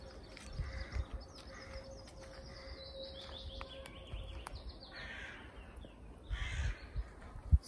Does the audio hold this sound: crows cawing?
yes